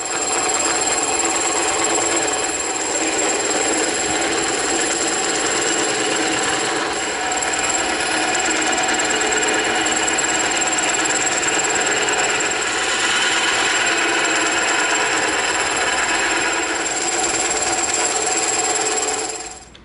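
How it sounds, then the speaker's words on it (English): A bandsaw rips through EVA foam in one steady, unbroken cut of nearly twenty seconds, with a continuous whine and a gritty hiss close by and no voices. "We're going to rip these out on the bandsaw."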